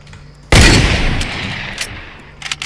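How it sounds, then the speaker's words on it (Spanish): MP submachine gun firing in Fortnite: a sudden loud burst of rapid gunfire that decays into a noisy tail, followed by a few faint scattered shots near the end. "Dispara MP poco hombre"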